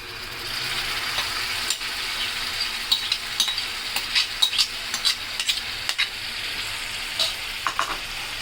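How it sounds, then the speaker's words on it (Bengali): Turmeric and spices fry in hot oil for a rohu fish roe dish in a Bangladeshi home kitchen, giving a steady close sizzle broken by frequent scraping stir clicks of a spoon in the pan, with no talk. "এখন মশলার এই হলুদটা ভাজা হয়ে গেছে"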